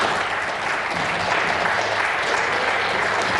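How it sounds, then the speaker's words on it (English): A snooker crowd at a tournament claps and cheers in a long, dense burst of applause that holds steady and loud throughout. "the big cheer there, Jimmy White's levelled up 2 each with Jimmy"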